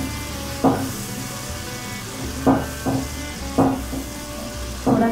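Ginger garlic paste fries in a pan with tomato, giving a steady sizzle, while a spoon stirs and scrapes against the pan in several distinct strokes; close and fairly loud, with no talking.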